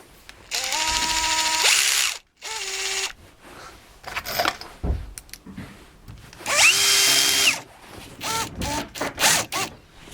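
A Metabo PowerMaxx BS 12 BL Q 12V multi-head drill/driver runs in several bursts, with a long whine early, shorter spurts and a sustained run later, close and loud, each ending in brief clicks.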